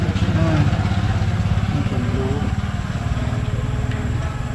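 Motorcycle engine running close by with a steady rapid putter and rough idle, loud and continuous throughout.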